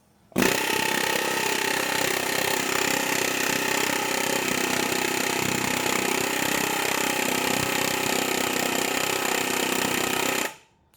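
A Snap-on pneumatic air hammer, freshly lubricated, hammers at full throttle in a loud, dense, unbroken rattle for about ten seconds, then cuts off abruptly.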